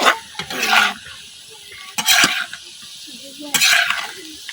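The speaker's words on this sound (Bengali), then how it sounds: "আদা রসুন খুব ভালোভাবে ভাজা হয়ে গেছে।" Ginger and garlic sizzle and crackle in mustard oil in a pan as a spoon stirs in three bursts, with quieter frying hiss between the scrapes.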